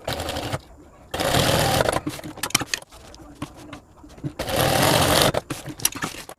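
A sewing machine stitching a school bag, running in loud whirring bursts that stop and start, with softer handling clatter in the gaps.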